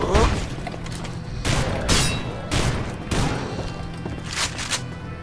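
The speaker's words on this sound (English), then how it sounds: "Oh, look at this! Akimbo shotguns!" Akimbo shotguns fire in The Haunted: Hells Reach. Loud booming blasts come in several bursts about a second apart, with reload clatter between them and a voice talking over the shots.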